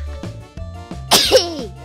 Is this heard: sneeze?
yes